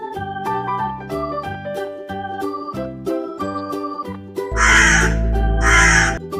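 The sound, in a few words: crow cawing from a distant tree branch, cartoon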